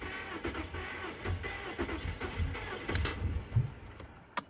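A Volkswagen Touareg with an engine timing fault cranks without firing, a faint uneven churning of the starter with irregular clicks and thumps that never catches into a running engine.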